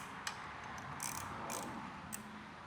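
A ratchet wrench clicks in short bursts while tightening bolts on a Yamaha WR250R motorcycle during routine maintenance, faint rapid pawl clicks separated by brief pauses.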